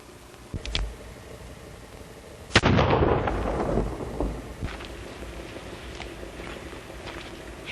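A single loud gunshot cracks out and echoes away through an outdoor setting, preceded by a faint sharp click and followed by quieter background rustle.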